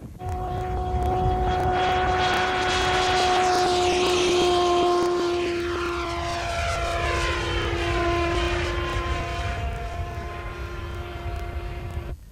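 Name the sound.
radio-controlled model aircraft engine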